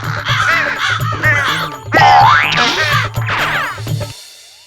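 Crow caws in a kids' jungle cartoon, several loud, close, rising cries over a rhythmic musical beat, ending with a short fade.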